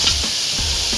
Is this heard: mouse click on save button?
no